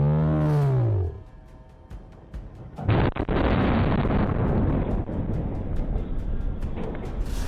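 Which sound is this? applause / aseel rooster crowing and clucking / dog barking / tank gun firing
tank gun firing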